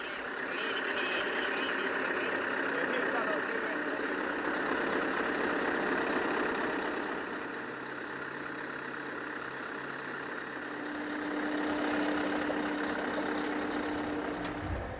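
Heavy transport truck engine idling during a mega transport of a village's load of over 250 tons, a steady low diesel rumble throughout with reversing beeps and a faint tone partway through.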